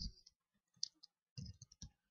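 A computer mouse gives a few faint clicks in quick clusters, close and quiet against silence, with no voices.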